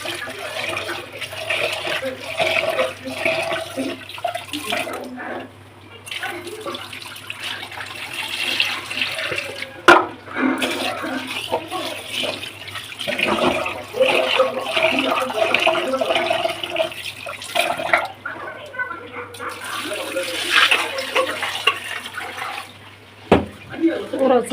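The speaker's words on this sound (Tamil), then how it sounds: "அலசி ஊற வச்சிருக்க அரிசியை நல்லா கழுவி எடுத்துக்கோங்க." Soaked rice being washed in water by hand, with repeated splashing, sloshing and swishing in an intermittent rhythm, close and clear, without speech.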